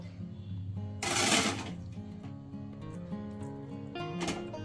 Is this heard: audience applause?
no